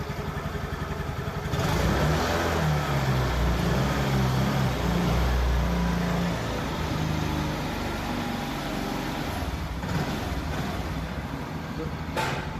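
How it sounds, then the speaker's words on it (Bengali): Car engine revs up with a loud, close, rough drone that swells and holds steady, then eases slightly toward the end, with no voices over it. "গাড়ির সাউন্ডটা ছিল একটু অ্যাক্সিলেটার করো তো"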